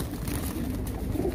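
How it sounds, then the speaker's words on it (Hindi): Pigeons cooing close by, low soft throaty coos repeating over a brief moment, with no voices present. "तो ये कबूतर भी इसमें डाल रहा हूँ मैं"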